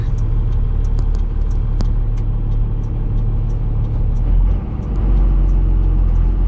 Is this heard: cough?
no